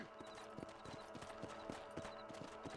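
A horse walks at a steady, even pace in Red Dead Redemption, its hooves clip-clopping in a regular rhythm over a quiet bed of ambient sound.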